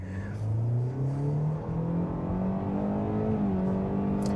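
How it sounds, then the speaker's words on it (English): A 2025 Kia K4 GT-Line with a 2.0L engine revs hard and accelerates from a standstill. Its steady, loud engine drone climbs in pitch throughout, heard close from inside the car with no talk. "We'll rev it up and drop the brake."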